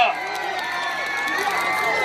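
At a Chuseok singing contest in Chungju, a festival audience cheers and shouts in a continuous wash as a guest singer is welcomed. The crowd noise holds at a fairly even level throughout the short stretch.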